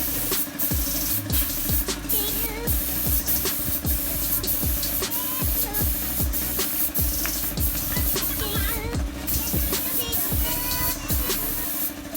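A spray gun lays primer on a Toyota Corolla body under restoration, giving a continuous loud hiss with steady compressor-like drone and repeated short pulses from trigger bursts, with no talk over it.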